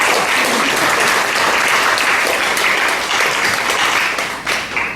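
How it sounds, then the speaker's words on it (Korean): Church congregation at an evening service applauding the accompanist, a loud, dense, continuous round of clapping from a full room that fades slightly near the end. "반주자에게도 박수."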